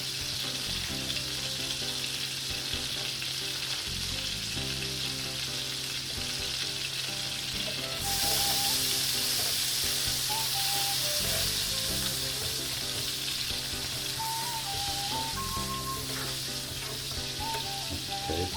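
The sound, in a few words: garlic frying in melted butter in a pan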